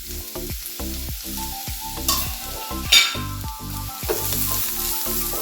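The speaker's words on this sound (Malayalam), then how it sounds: "നമുക്കിനി ഇതിലേക്ക് ക്യാരറ്റ് ഇട്ട് കൊടുത്തിട്ട് ഒന്ന് മൂപ്പിച്ചെടുക്കാം" Carrot sautés in ghee for a sweet payasam, a close sizzle broken by rhythmic stirring scrapes against the pan, with a few louder clanks and no speech.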